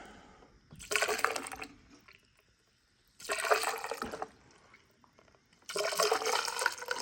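ATV motorcycle coolant glugging from a jug through a funnel into the radiator of a Kawasaki Bayou 400, three bursts of pouring, each about a second and a half long, separated by quiet pauses.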